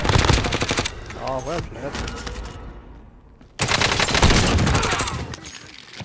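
Automatic gunfire rattles in the video game Warzone, loud rapid bursts that break off into a quieter gap and then return. A player talks briefly during the lull.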